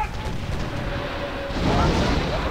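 Ship cannon fire in the Sid Meier's Pirates Windows remake, a steady rumbling barrage of booming shots that swells louder toward the end, heard alone without talk.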